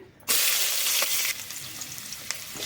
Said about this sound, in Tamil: இப்போ எடுத்து வச்சுருக்கிற வெங்காயம் வந்து நான் போட்டுக்கிறேன்